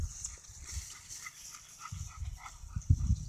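A bird dog makes low, gruff barks and snorting grunts up close, growing louder toward the end.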